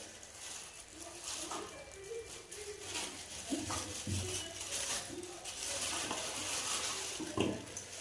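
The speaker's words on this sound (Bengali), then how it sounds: "মাংসটা ধুয়ে নেব।" Chicken pieces are rinsed in a pot with water sloshing, slapping and splashing, nearby and fairly loud, with handling clunks scattered throughout.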